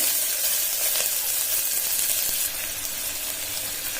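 Finely chopped onions sizzle in ghee inside a pressure cooker, a continuous close crackling hiss with a faint stirring scrape and a slight drop in loudness partway through, heard alone.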